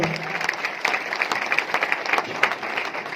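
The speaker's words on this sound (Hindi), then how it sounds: "एक बार जोरदार ताली सबके लिए चाहूंगा।" Audience applause at an RCM World Star Pearl celebration event, a dense steady patter of many hands clapping through the whole stretch, fairly close and lively with no speech over it.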